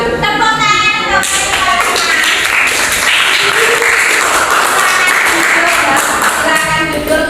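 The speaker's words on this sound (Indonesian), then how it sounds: "Tepuk tangan untuk" Students in a classroom clap together for a group after its presentation, a dense, steady patter of many hands that starts after about a second and keeps going loud to the end.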